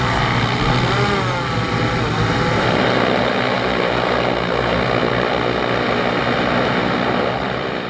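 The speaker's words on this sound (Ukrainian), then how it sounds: "Перед нами Кажан, важкий бомбер. Кажан, да, тяжелый ударный дрон." A Kazhan heavy bomber drone's propellers drone loudly and steadily at close range for the whole stretch, a dense continuous buzzing roar with no talk over it.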